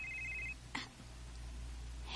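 A mobile phone rings with an incoming call: a short electronic beeping tone at the start, then a soft knock and quiet room hiss.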